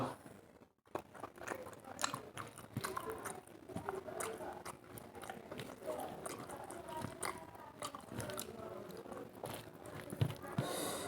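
Close, quiet chewing of cooked meat with a meal, soft wet bites and crunchy mastication repeating steadily throughout, with a little faint background noise.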